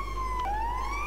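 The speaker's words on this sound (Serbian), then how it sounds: "sad se policija čuje" Police siren inside a Minecraft horror map game, a steady electronic wail sliding between two pitches with a brief dip midway, sustained and fairly loud with no voices over it.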